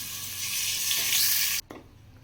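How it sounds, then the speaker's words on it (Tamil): Onion-garlic paste frying in hot oil in a kadai, a loud close hissing sizzle that stops abruptly near the end, leaving a quieter background. "இப்போ இந்த வெங்காயம் பூண்டு பேஸ்ட்டை போட்டுக்கலாம்."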